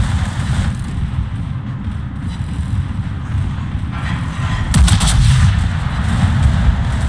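Armor-piercing shells fired from warships in a naval battle video game boom over a constant low rumble, with a heavier burst of fire about two-thirds through.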